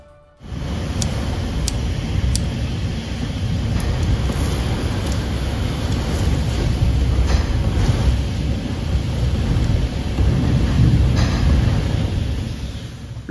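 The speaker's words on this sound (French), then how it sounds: "un orage d'une rare violence traverse le secteur de Pont-le-Voix" Violent thunderstorm over Pontlevoy, heavy rain roaring steadily and loudly throughout, with a few faint sharp cracks of thunder on top.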